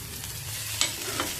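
Boiled chickpeas are stirred and mixed in a pan with a soft low sizzle, and a couple of brief scraping clicks from the spoon stand out over the quiet hiss.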